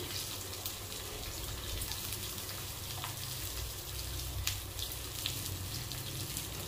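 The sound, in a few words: cumin, curry leaves, dried chillies and onions frying in oil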